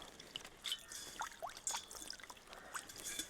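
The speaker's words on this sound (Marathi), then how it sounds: "तुम्हाला पाणी ओतून दाखवतो आता." Water is poured over a copper or brass pot coated with besan paste, soft close-up trickling and dribbling with small splashes, fairly quiet throughout.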